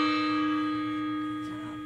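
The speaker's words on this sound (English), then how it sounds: "they get to ring the gong" A gong is struck once before the clip starts, and its steady metallic tone rings on loud and close, slowly fading.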